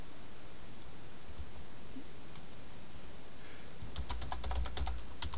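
Typing on a computer keyboard, faint scattered keystrokes under a steady background hiss, with a quicker run of clicks toward the end.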